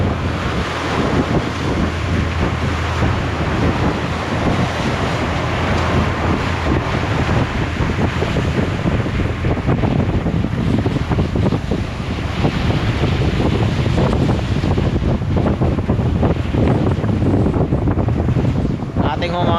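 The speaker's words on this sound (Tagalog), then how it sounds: "ang alon mga kabisig ay nako, naglalaki ang alon talaga" Big storm waves and strong wind on the open Pacific Ocean, heard from aboard a boat as a loud, unbroken roar of rushing water and wind buffeting the microphone, with a voice talking faintly underneath.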